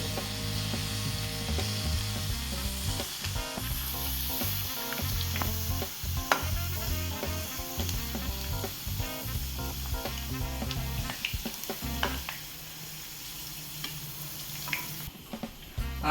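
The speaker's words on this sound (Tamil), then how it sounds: "மீடியம் ஃப்ளேமில் வச்சுட்டு நம்ம உள்ளே போட்டு பொரிச்சு எடுத்துக்கலாம்." Potato chips deep-frying in hot oil over a medium flame, a steady dense sizzle with crackling bubbles throughout, close and fairly loud with no talking.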